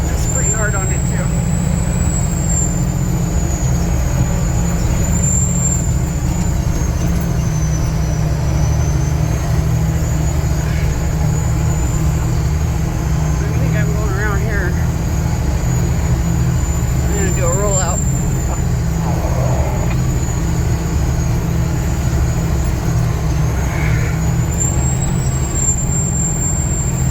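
A logging truck churns through sawdust mud with a steady, loud low engine drone and a faint high whine, while a few faint voices come through underneath.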